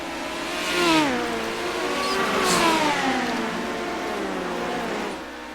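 NARC midget race cars roar around the I-55 dirt track at Pevely, engines climbing and falling in pitch as they pass one after another, loud and fairly close.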